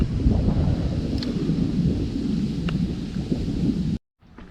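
Loud wind buffets a microphone outdoors during fishing-rod casting, a deep, rumbling roar for about four seconds before cutting off abruptly to near silence.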